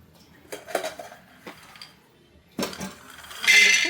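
Peanuts tipped into a pan on a stove clatter and clink against the metal in a few separate bursts, followed by a brighter, denser rattle near the end.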